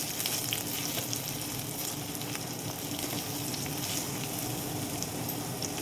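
Frying in oil in a pan while making a dried gongura chutney, a steady close crackling sizzle with scattered small pops and a faint stirring undertone throughout, no one talking.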